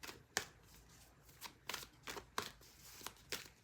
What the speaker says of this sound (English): I'm going to be pulling some cards for myself.